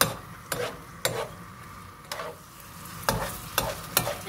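A spoon stirs calamarata pasta in a pan with onion sauce, giving soft scraping strokes at irregular intervals over a quiet sizzle, close up and without talk.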